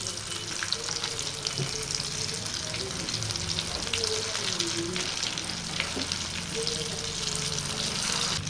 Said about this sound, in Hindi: अब अंडे में ये कबाब को इस तरह डिप करेंगे और इसे फ्राई कर लेंगे।